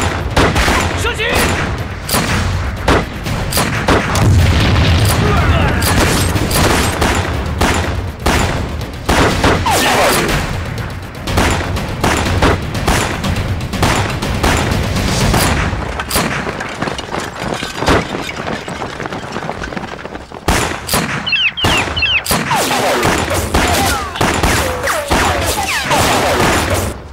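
Sustained movie gunfire from soldiers ordered to shoot, loud dense volleys and rapid bursts with booms and crashes, continuing for nearly half a minute with shouting mixed into the chaos.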